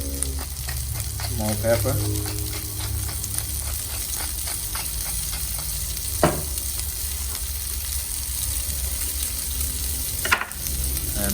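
Steak fries in a hot pan with a steady, close sizzle for most of the stretch, while a few sharp clinks from a utensil cut through. A voice speaks briefly over it.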